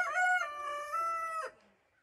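A rooster crows once nearby in a backyard chicken coop, a loud, harmonic cock-a-doodle-doo lasting about a second and a half before cutting off.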